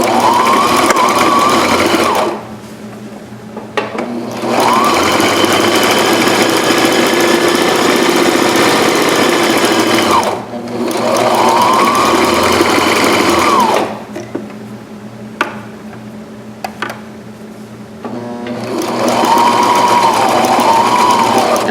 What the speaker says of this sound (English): now I flip, and I'm going to sew the other direction. Again, back stitching.